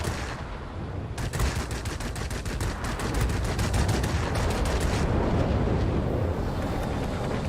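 Aircraft guns fire in a plane combat video game, a loud rapid burst of machine-gun rounds rattling over a steady roaring engine and wind wash, then the firing stops while the roar continues.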